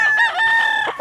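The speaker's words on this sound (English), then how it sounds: "Beautiful rooster." A rooster crowing at a fair: one loud, close, drawn-out cock-a-doodle-doo with no one speaking over it.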